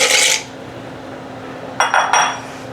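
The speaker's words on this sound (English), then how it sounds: "right now I'm gonna put in my 12 ounces of campanelle pasta" Dry campanelle pasta poured into a pot of water, a short rattling clatter at the start, then a few quick clinks against the pot after a pause.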